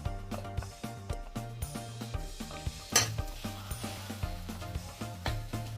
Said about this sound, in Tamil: இப்போ உருளைக்கிழங்கையும் அதில் போட்டுக்கிறோம். போட்டுட்டு சும்மா கிண்டிட்டு இறக்கணும்.